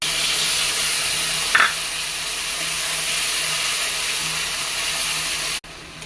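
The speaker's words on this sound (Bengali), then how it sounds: "সর্ষে, জিরে, আদা, রসুন বাটা এবার আমি দিয়ে দেবো এটাকে তেলের মধ্যে" Mustard, cumin, ginger and garlic paste frying in hot oil for a fish curry, giving a steady, loud broadband hiss that holds evenly for several seconds with one brief bump before cutting off near the end.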